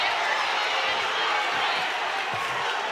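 Gym crowd at a Bishop Miege vs. St. James Academy boys high school basketball game roaring in a steady, dense wash of voices and jeers, loud and sustained throughout with no break.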